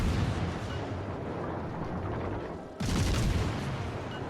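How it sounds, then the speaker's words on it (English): Heavy booming salvos from the Tiger '59 cruiser's guns firing armor-piercing shells in World of Warships Legends rumble continuously, with a sharp louder blast partway through. "hammer this guy with armor-piercing shell after armor-piercing shell"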